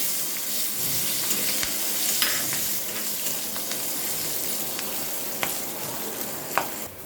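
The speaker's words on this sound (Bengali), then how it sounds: "এটা আমি এখন দিয়ে দেবো, একটু ভালো করে ভেজে নেব।" Whole garlic, dry red chillies and green chillies with nigella seeds frying in hot oil: a constant crackling sizzle with sporadic sharp pops and spatula clicks, close and without speech.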